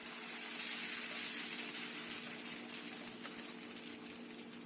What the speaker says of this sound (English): Once the pan is heated, pour the dosa batter.